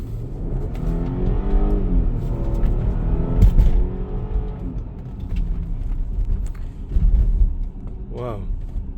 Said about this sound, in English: that supercharger makes for a nice driving experience, and no like turbo lag or anything